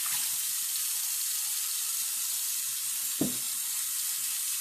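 Water runs steadily through a strainer, rinsing tomato seeds that are being saved. The hiss is constant and fairly quiet, with one short clunk near the end.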